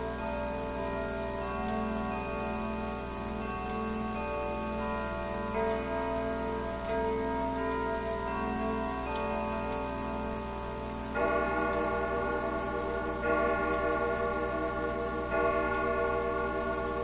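Church bells ringing in a steady, sustained peal within an eerie analog horror setting, layered tolling tones thickening and growing louder partway through, with a faint ticking clock underneath and no talking.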